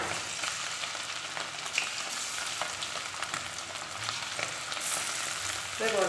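Shredded chicken frying in hot coconut oil in a pan for a nool fry: a continuous dense sizzle and crackle at close range, with occasional stirring scrapes and no talking.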